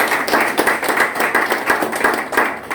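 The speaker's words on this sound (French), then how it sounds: "applaudissements s'il vous plaît" A crowd claps in brisk, continuous applause, close and lively, with no voices over it.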